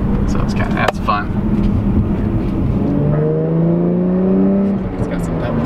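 Supercharged Jaguar F-type S engine, 380 horsepower, pulls steadily as it accelerates, its rising tones climbing under continuous cabin noise, with people talking over it.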